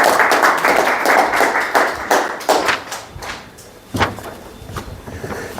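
An audience at a general meeting and seminar claps loudly and close by, the dense applause thinning into scattered single claps and a few sharp taps near the end.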